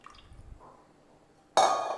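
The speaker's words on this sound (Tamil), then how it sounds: "இப்போ புளி கரைசலை ஊற்றிக்குவோம்." Tamarind extract is poured into a simmering stingray fish curry: after near silence, a sudden splashing gush of liquid starts and keeps going close up.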